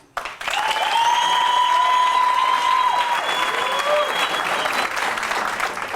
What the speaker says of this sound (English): please would you give her a round of applause?